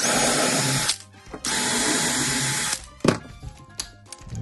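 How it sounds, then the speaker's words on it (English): A power drill pre-drills screw holes in two long whirring bursts separated by a short pause, followed by a few clunks and taps, during a shower pan installation. "We're gonna pre-drill all of our holes first."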